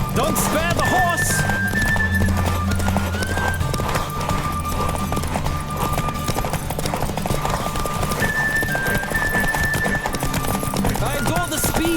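Galloping horse in The Witcher 3, with steady, rapid hoofbeats running throughout, mixed with a whinny and other game sounds, while voices talk over it.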